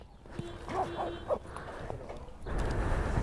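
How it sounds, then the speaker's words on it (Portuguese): A few short dog barks and yips at moderate distance, spaced irregularly, followed by a low rumbling background noise. "Segura o dog aí, mano."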